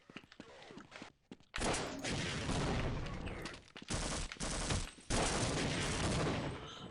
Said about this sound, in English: Who is still shooting me?